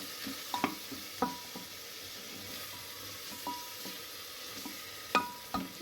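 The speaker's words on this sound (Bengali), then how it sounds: "চিকেনটা ভালো করে কষিয়ে নিতে হবে।" Chicken fries in a pan, with a faint sizzle and intermittent sharp clinks and scrapes of a spatula stirring it.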